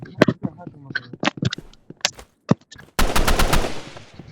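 A randomly chosen gun fires in a video game: scattered single shots under a player's voice, then a loud, rapid automatic burst lasting under a second.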